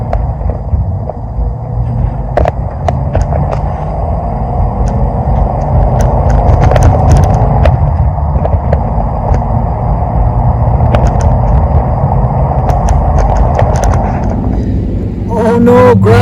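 An old brown vehicle drives along a gravel road, giving a loud continuous low rumble with scattered crunching and rattling ticks from the surface, and a voice joins briefly near the end.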